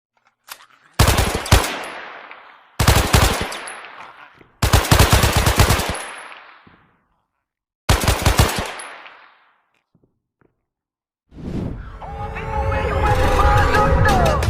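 Machine gun fire in a mobile FPS video game, four loud close bursts of rapid shots separated by short pauses, followed by a rising rumble of battle noise, no speech.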